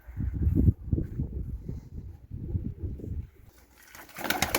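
Domestic pigeons just released from a loft coo in low, repeated bursts close by, with a brief rustle of wings or movement near the end.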